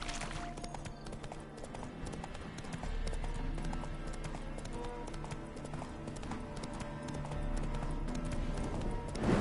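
Hooves of a video game horse clip-clop in a steady trotting rhythm, moderately close, set over a continuous layer of game music and ambience with no talking.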